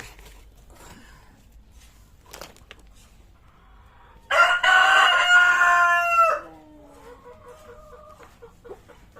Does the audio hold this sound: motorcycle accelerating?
no